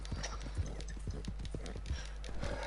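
Horse hooves clopping at a quick, steady gait in the video game Red Dead Redemption 2, faint rhythmic thuds over a low constant hum.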